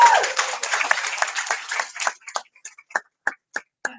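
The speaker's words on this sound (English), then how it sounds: "Let's give her a round of applause." A small meeting group claps for a newly announced club president; brisk clapping from a handful of people fades out into a few scattered single claps spaced apart at the end.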